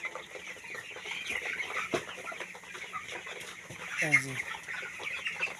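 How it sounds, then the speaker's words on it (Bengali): Flock of 18-day-old chickens clucking and peeping in a poultry shed, a busy low chorus with one brief louder call near the end, while someone speaks briefly. "এই দেখেন আজকে আমার এই মুরগির বয়স হয়েছে আপনার 18 দিন।"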